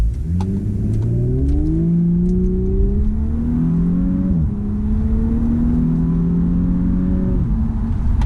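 A 2018 Audi S5 Sportback engine revs up through several gears, pitch climbing steadily then dropping at each shift, loud and close from inside the car.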